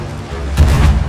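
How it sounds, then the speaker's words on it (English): Ship cannons firing during a naval fight in Sea of Thieves, a heavy low boom or two landing over a steady rumble, loud and close, with a shouting voice around the blasts. "Left hand cannons, left hand cannons."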